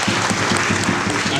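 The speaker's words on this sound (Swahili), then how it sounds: "Naomba tumpigie makofi sana" Dense applause from a large crowd at a stadium project launch, steady and continuous clapping throughout the short moment.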